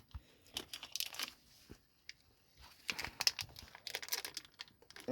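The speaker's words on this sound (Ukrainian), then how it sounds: "зараз ми розпакуємо нашу пасту" A plastic zip bag holding paste is opened and handled, giving close, quiet bursts of crinkling and rustling plastic separated by short pauses.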